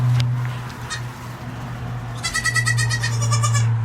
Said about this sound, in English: sitting here watching the goats